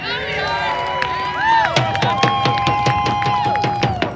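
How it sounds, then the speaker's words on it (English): A rally crowd in Red Deer applauds and cheers close up, with sharp claps, shrill whistles and shouting voices blending into a loud, continuous roar. "so give yourself a round of applause."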